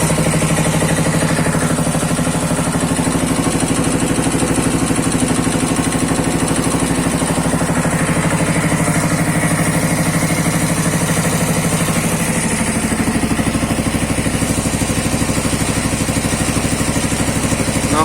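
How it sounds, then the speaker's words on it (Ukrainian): A cheap small generator engine idling close by, a loud, steady mechanical chug that runs unbroken throughout with a slight shift in tone partway through. "Мотор робить на холостих оборотах."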